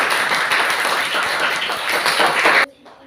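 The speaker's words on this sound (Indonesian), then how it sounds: "Beri aplaus dong untuk temannya." Classmates clap for a student in a classroom, a dense, steady burst of applause lasting under three seconds before cutting off abruptly into near silence.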